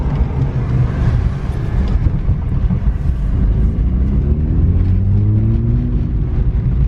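A car engine idles steadily and loudly throughout, a continuous low rumble with a rising tonal whine near the end; the engine is running with no check engine light and a non-working tachometer.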